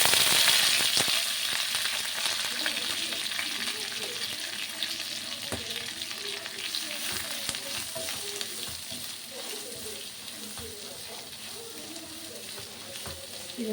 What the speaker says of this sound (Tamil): இது நல்லா ஃப்ரை ஆகுற வரைக்கும் இதை நான் நல்லா வந்து வதக்கிக்கிறேன்